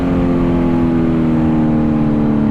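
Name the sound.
Kawasaki Z900 motorcycle wheelie fly-by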